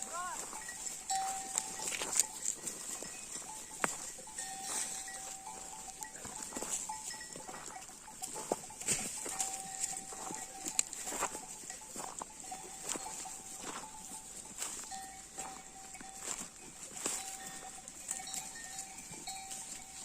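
A flock of sheep grazing on a village mountainside, their bells clinking and tinkling continuously in an irregular patter, fairly faint and spread out, with occasional bleats.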